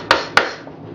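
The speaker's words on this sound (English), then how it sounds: "nailing these frame rests." Two sharp hammer strikes driving nails into wooden frame rests on a standard bee hive box, crisp metallic knocks a quarter second apart, close and alone.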